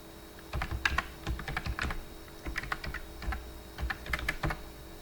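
Someone types a login password on a computer keyboard in quick, close, clicky bursts of keystrokes with short gaps between them. A faint steady hum sits underneath.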